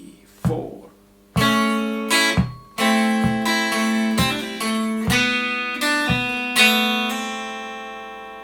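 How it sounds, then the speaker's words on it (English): Guitar plays the closing two bars of a song, a series of ringing plucked notes and chords struck one after another, each sustaining and overlapping, clear and close with no talking. "So the ending, bar 7, 8, sounds like this."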